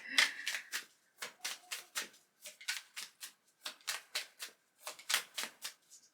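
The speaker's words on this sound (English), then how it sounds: "my shuffling's not going well today" Quick riffling bursts of tarot cards being shuffled, repeated in short rhythmic flurries with brief pauses between, close and fairly soft.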